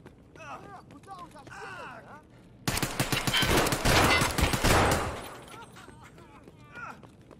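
Sustained automatic gunfire in a shooter game cracks out loudly in a dense burst of several seconds, then tapers off, with someone talking before and after it.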